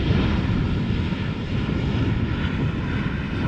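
A KLM Embraer 175 climbs out of Schiphol Airport, its engines giving a steady, fairly loud broadband roar throughout, with no voices.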